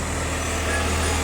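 A farm tractor engine running with a steady low drone and rumble as it pulls away, fairly close and continuous, with faint voices in the background.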